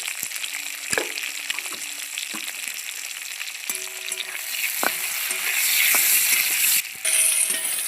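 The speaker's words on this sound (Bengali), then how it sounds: "মাছ ভাজার তেলের মধ্যে আমি বেগুনগুলো লাল করে ভেজে নেব" Eggplant seasoned with turmeric and salt fries in leftover fish oil. A continuous sizzle is punctuated by scraping stirs and utensil knocks, and it grows louder toward the end.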